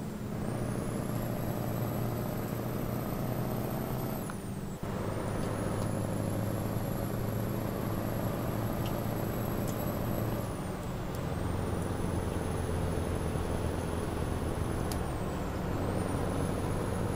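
A Scania 143M truck with a modded engine sound in Euro Truck Simulator 2 drones loudly and steadily, its pitch rising and holding through long gear pulls with brief dips at shifts, close and alone.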